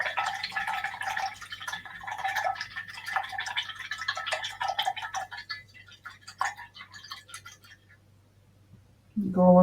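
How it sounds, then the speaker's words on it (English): A paintbrush swishes and taps in a cup of rinse water after painting a Christmas bug, giving close, light clicking and sloshing sounds for several seconds, then a short thump at the end. "Rinse your brush."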